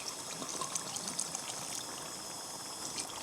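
White wine, 150 ml, is poured into a bolognese sauce, making a soft, steady close-up trickle and splash that runs for a few seconds without talking.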